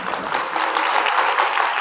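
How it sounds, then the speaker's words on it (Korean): A seated audience claps together in a short, dense burst of applause that holds steady throughout, loud and close with no speech. "박수 한번 쳐볼까요?"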